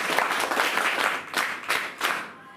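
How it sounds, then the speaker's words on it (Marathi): Schoolgirls in a girls' school hall break into loud, close applause, with several surging waves of clapping that swell and ease before fading out at the end. "आणि म्हणून पुन्हा एकदा त्यांच्यासाठी एकदा जोरदार टाळ्या झाल्या पाहिजे."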